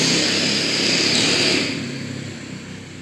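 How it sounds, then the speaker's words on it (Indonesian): A motorcycle roars past nearby, loud broadband engine noise at first that fades steadily as it moves away, with no talking over it. "maaf ya, itu motor lewat"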